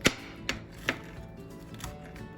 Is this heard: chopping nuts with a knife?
yes